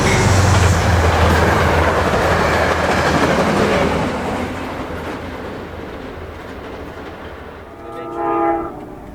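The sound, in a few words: train led by a Brookville BL20GH locomotive passing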